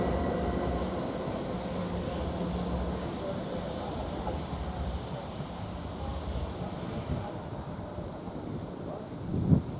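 A train departs Ely station, a low rumbling roar that holds steady with wind buffeting the microphone and a brief thump near the end.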